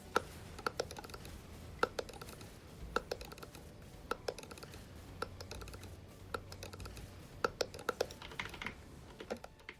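A computer keyboard is used to play a combo in the game Genshin Impact, with quick, crisp key presses clicking in irregular rapid bursts, close and fairly quiet, with no voices.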